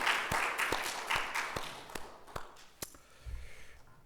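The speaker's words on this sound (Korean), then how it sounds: "하나님께 큰 박수 한번 올려드립시다." A church congregation gives a short burst of applause, sharp scattered claps rising and then thinning out over a few seconds in a reverberant worship hall.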